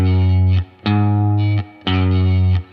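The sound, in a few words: electric guitar playing 4-5-6-5 Lydian progression in E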